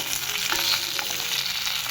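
Eggplant bhaji masala frying in a pan while being stirred: a steady close sizzle with soft scraping stirs running throughout, and no voices.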